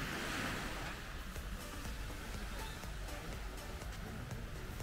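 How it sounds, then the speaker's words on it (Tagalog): Waves wash and break continuously in a steady roar of surf, with gusty wind noise over the top and no talking. "May alon na."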